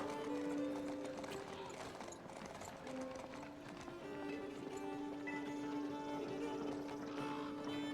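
Horse hooves clip-clop at a gallop inside a medieval knight video game, with a steady thudding rhythm under game music and occasional whinnies, continuous and fairly loud throughout.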